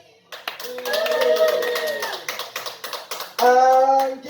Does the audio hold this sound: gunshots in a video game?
no